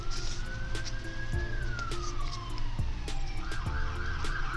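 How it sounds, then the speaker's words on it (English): A wailing emergency vehicle siren sweeps slowly up and down in pitch as it passes, set against a steady rumble of traffic and a few faint clicks. "there's about to be another siren"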